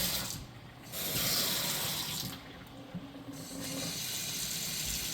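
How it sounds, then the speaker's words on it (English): Hot water gushing from a tap in a steady stream, swelling louder and softer as the flow shifts, with no voices. "hot water is going to start coming out"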